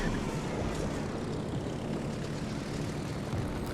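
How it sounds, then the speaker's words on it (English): Torpedo bombers take off from the aircraft carrier Kaga in a naval battle video game, a steady, loud propeller-engine roar with a constant droning hum and no talking. "Now he brings out his torp bombers, and we can see there's 3 torps."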